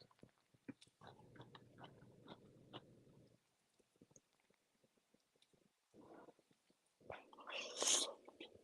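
Someone bites and chews a watermelon sandwich with mustard, making close, quiet, wet crunches in uneven bursts, with brief murmured talk near the end.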